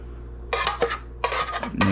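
Asparagus is stirred in a pan of butter and oil, giving two quick clusters of close scraping and clinking as a utensil moves against the pan, with a final short knock.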